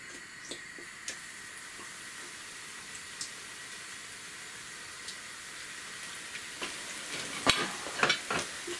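Pakoras frying in hot oil, a steady soft crackling sizzle with scattered pops, growing busier and louder near the end as batter is stirred, close up with no voices.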